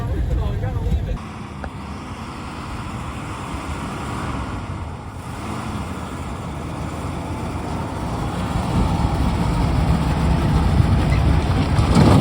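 An abandoned 1959 Ford F100 pickup drives on the road for the first time in 20 years. Its engine gives a continuous, close rumble that grows louder toward the end, with some talk mixed in.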